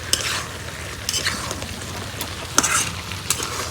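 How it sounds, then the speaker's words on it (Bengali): Country chicken meat frying in a pan while being stirred: a steady low sizzle broken by scraping utensil strokes against the pan, close and moderately loud. "মাংস কষাই দিছি"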